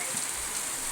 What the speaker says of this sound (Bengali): প্রচণ্ড হারে বৃষ্টি পড়ছে এখানে।